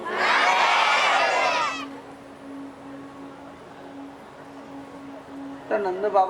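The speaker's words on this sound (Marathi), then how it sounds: "बोलो राधे राधे जरा जोर बोलो ना और जोर" A crowd at a Bhagwat Katha gathering in Andhapuri, Beed, chants loudly in unison for under two seconds. A low murmur follows, and a single voice rises briefly at the end.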